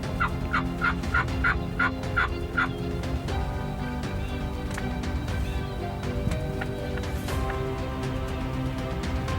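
A wild turkey gobbles repeatedly in the woods during a hunt, a rapid rattling burst of gobbles near the start followed by more calls further off over a steady outdoor background.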